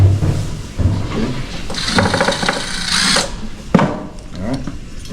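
A power drill drives longer screws during a fire alarm audio strobe installation, one short whirring burst in the middle followed by a sharp knock, with handling noise around it.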